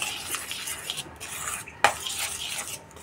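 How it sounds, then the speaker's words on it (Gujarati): Gram flour is mixed into spinach dough for sev, with soft scraping and stirring in a bowl and a single sharper clink of a utensil partway through, quiet and close with no voices. "જરૂરિયાત મુજબ ચણાનો લોટ ઉમેરતા જઈશું. આ રીતે બધું મિક્સ કરવાનું છે"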